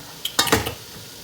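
A metal pot lid is lifted off a steamer holding sea bass steamed with lime, giving a few close clanks and scrapes of metal over a quiet background hiss, then silence.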